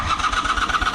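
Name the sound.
Honda CM400 motorcycle engine cranking after starter replacement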